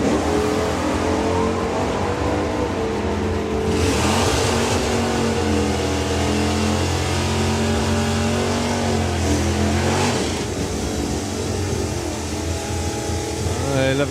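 A Duster drag car and a Chevy Nova run side by side at a Dragstalgia 2025 drag racing event, their engines roaring loud and continuous with rising revs, and a voice is heard faintly under the noise.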